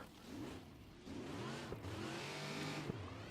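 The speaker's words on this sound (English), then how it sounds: "Oh, and I hear another car." In a racing video game, another car's engine hums close by in a steady, rising whine with layered harmonics, and no one talks.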